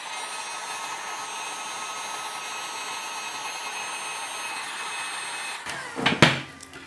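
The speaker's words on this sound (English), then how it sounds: "Put your heat gun down." A heat gun warming an action figure to loosen an arm blows a steady, even airy whoosh for several seconds, then cuts off and is followed by a short clatter of handling and a plastic knock.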